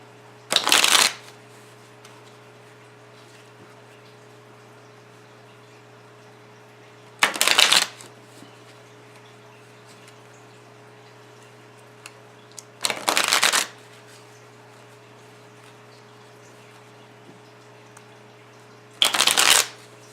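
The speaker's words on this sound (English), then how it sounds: "I'm gonna go ahead and try to speak up and do this shuffling for Taurus" Tarot cards being shuffled in four separate bursts, each about a second long, spaced several seconds apart over a steady low hum, with no talking.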